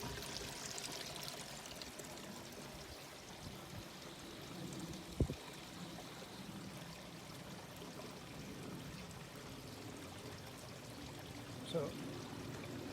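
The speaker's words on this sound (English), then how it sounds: "just need to wait for it coming out of the bottom of it to flow back to the pond then." Water runs steadily out of the bottom of a homemade three-barrel koi pond filter and back into the pond, a constant rushing flow with a couple of faint knocks partway through.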